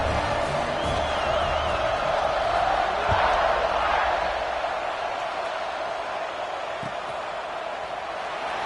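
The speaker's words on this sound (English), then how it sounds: "This place is roaring" A dense stadium crowd in the NCAA 25 college football video game keeps up a loud, continuous roar throughout, with no clear breaks.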